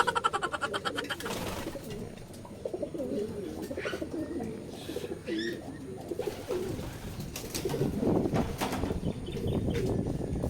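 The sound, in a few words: pigeons cooing in a loft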